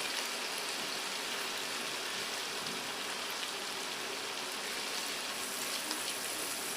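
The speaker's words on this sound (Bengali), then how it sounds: "একটু ভেজে নিচ্ছি, গন্ধটা চলে যাওয়ার জন্য" Ginger, garlic and cumin frying in a pan with a soft, even, continuous sizzle like light rain, held at a low level throughout with no talk.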